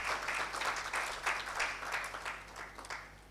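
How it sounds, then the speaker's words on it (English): Audience applause at a regulatory talk event, a steady wash of clapping with no pauses, fairly soft and moderately distant, lasting a few seconds. "Another warm clap for Mr. Subo."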